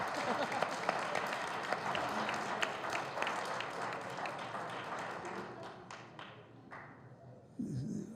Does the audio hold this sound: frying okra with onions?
no